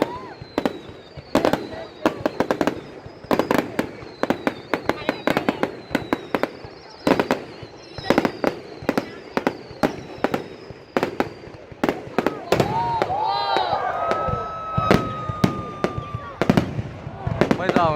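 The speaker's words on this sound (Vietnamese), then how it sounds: "Bây giờ bắn pháo tầm cao rồi, bắn pháo tầm trung." High-altitude fireworks at a fireworks contest go off in a dense, steady run of sharp bangs and crackles, with whistling launches rising near the end.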